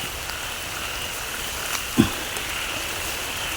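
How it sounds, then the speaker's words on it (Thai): Steady rain falls at night at a fishing spot, with a constant even patter and hiss and one brief nearby knock partway through, and no talking. "ฝนก็ตกครับผม"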